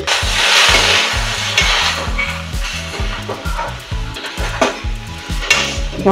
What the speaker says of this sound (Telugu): ఒక పావు నూనె వేసుకొని కట్ చేసుకున్న బెండకాయలు నూనెలో వేసుకోవాలి.